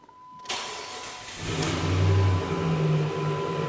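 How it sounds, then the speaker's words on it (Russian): A Jeep Grand Cherokee WJ engine starts up and settles into a steady, loud stock exhaust rumble, idling with a deep throaty drone close by. "Слухаємо выхлоп."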